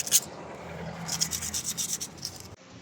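Sandpaper rubbed by hand over bare steel on a Yamaha NMAX V2 side stand, close up: a quick run of short rasping strokes in an uneven rhythm, followed by a pause, with no voices.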